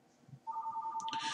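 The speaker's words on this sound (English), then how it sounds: "sorry about my phone ringing in the background" A mobile phone rings in the background during a wrestling broadcast review, as a steady electronic ringtone that starts partway in and swells louder with a burst of brighter tones near the end.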